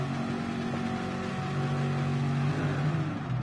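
A race car engine held at high steady revs on the grid before the start in a racing video game, a sustained droning tone with a slowly rising pitch, loud and close, with no voices.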